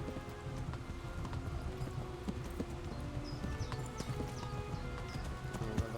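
A horse's hooves clip-clop steadily at a walking pace in the medieval video game Kingdom Come: Deliverance, fairly quiet and mixed with soft rain-like ambience and faint rattles.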